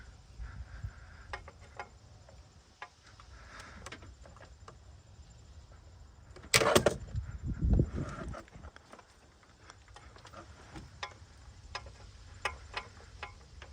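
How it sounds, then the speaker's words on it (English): Rocker arms on a Jeep WJ 4.0 engine, exposed during a valve cover gasket job, give faint, sparse clicking and tapping, with a brief louder clatter near the middle. "I think it was this tapping that made the clicking sound"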